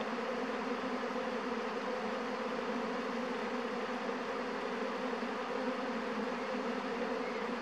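A honeybee swarm pours out of a hive. A dense, steady buzzing drone from many bees is recorded at close range, about 1.5 m away, and holds constant and unbroken throughout.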